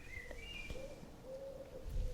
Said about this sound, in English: We have some very vocal, feathered neighbours.